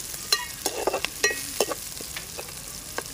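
Sliced onions frying in a pan of oil for a raw banana curry, a soft, crackly sizzle dotted with irregular pops and light clicks, fairly quiet and close.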